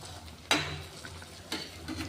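Batata vada, bread-coated potato fritters, frying in oil over a low flame give a faint, steady sizzle, broken by two sharp utensil clinks about a second apart.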